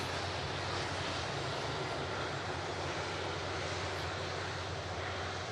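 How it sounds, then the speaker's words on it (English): A Loganair ATR turboprop airliner approaches to land, its engine roar a steady, broad, moderately distant drone that holds level throughout. "There is a ATR coming in next"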